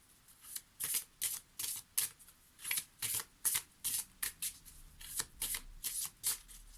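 Oracle cards are shuffled by hand and drawn in a reading, giving a quick run of crisp riffling bursts in an uneven rhythm, close and clear with no talk.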